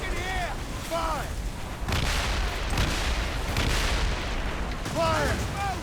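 Heavy ship cannons boom in a naval battle in Assassin's Creed Rogue, with repeated loud broadside blasts rolling one after another under shouted crew commands and cries.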